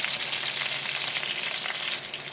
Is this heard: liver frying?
yes